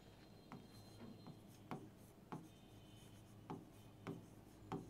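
A marker writes on a board in short, quiet scratchy strokes, about seven separate taps and scrapes over a low steady hum, close by and with no voices.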